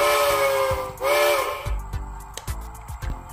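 Steam whistle from the sound decoder of an On30 2-6-6-2 model locomotive, two loud close hissing whistle blasts followed by rhythmic chuffing exhaust beats.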